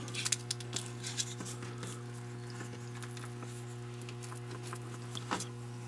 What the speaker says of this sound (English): I'm going to roll up this paper, leaving about a 1/2 inch, 3/4 inch